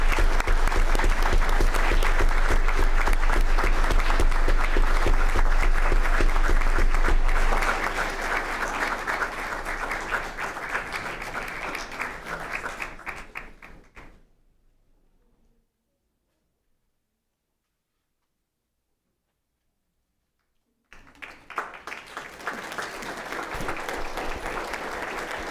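An audience claps loudly and densely to welcome high school mariachi students entering a school board meeting room. The applause fades to silence partway through, then picks up again at a lower level.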